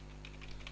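Quiet, quick keystrokes on a computer keyboard type a folder name, a few soft clicks over a low steady hum.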